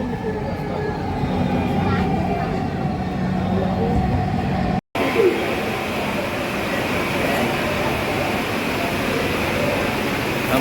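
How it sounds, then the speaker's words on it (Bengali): Dhaka metro rail train running, a steady rumbling, whooshing carriage drone heard up close and unbroken apart from a brief cut partway through. "ট্রেনটা এখন চলে যাবে মতিঝিল।"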